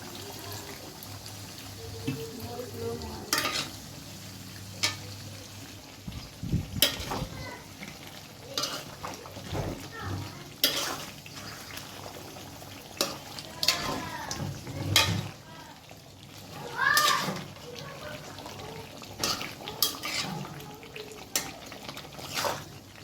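Potatoes and snake gourd frying in a pan are stirred, with repeated scraping strokes of a utensil over a steady sizzle, interspersed with sharp clanks and a short stretch of running tap water.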